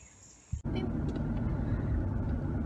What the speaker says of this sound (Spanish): Ahorita vengo aquí en el carro con mi familia